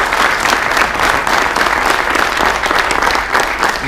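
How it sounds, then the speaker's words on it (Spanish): A roomful of people clap steadily and loudly for a few seconds, with no voices on top. "Un aplauso, por favor."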